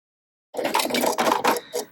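Sewing machine running steadily for about a second and a half, stitching duffle bag fabric in a gentle curve, close and fairly quiet, with no talk.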